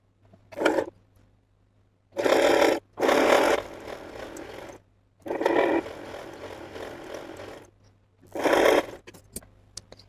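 Several short bursts of a domestic sewing machine stitching folded fabric for a baby blouse, each run lasting a second or two with quiet pauses between, close and moderately loud.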